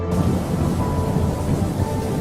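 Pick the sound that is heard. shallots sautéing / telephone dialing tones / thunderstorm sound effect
thunderstorm sound effect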